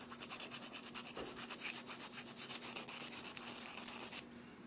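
Coarse sandpaper rubbing the fuzz off a coconut shell, a quiet close-up scratchy rasp in quick, even back-and-forth strokes, with a faint steady hum underneath.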